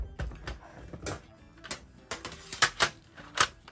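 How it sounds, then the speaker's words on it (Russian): Pastel pencils scratch and tap across Nuance paper in irregular close strokes, a series of dry sharp scrapes and clicks of uneven loudness with brief gaps between, and no speech. "Давайте, наверное, я попробую еще на этой бумаге сухие карандаши."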